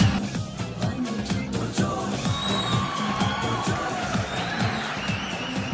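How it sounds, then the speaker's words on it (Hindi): A television studio audience cheers and claps steadily during a T20 World Cup 2024 cricket talk show, with scattered whoops rising over the noise, loud and continuous throughout. "तालियां हो जाए मेरा ख्याल है बहुत सारी।"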